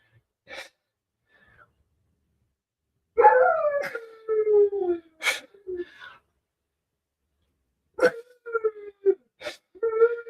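A dog in its crate whines and whimpers in drawn-out, wavering cries, in short bursts separated by silent pauses, close by and fairly clear.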